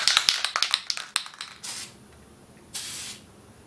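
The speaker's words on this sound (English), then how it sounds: "Now I'm going to spray them." Aerosol spray on two small hand-cut discs during restoration of a 1926 Radiola 26 radio: after some light clicking and handling, two separate hissing bursts of spray, each under a second, close and fairly loud.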